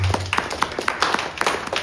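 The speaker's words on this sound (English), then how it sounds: "We can clap for Uganda, please." An audience claps for Uganda in a steady patter of many hands close by, lasting under two seconds without any voices.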